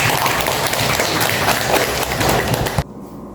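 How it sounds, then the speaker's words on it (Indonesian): Classroom applause, a dense steady clatter of many hands clapping together at close range, stopping abruptly near the end. "Tepuk tangan."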